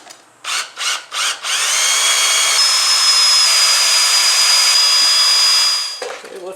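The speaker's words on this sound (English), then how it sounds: "3/16 inch drill bit to drill out the rivets." A power drill fitted with a 3/16 inch bit bores out rivets on a Honda CB750 exhaust. Three short bursts come first, then a steady, loud whine holds for about four and a half seconds before winding down.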